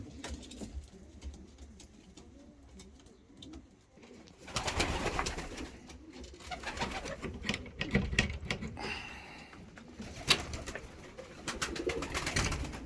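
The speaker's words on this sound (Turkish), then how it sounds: "Kanat balonda da çok güzel kaliteli kuşlar var." Kanat balon pigeons cooing softly in a loft, with low murmuring coos repeating throughout and louder bursts of rustling and fluttering in the middle and near the end.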